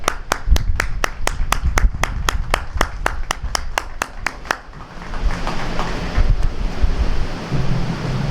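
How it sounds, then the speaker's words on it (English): Outdoors at a windy ribbon-cutting ceremony at Point Gratiot Park in Dunkirk, New York, rapid, evenly spaced claps sound for several seconds. They sit under heavy wind rumble, which carries on alone after the clapping stops. "Please, a round of applause."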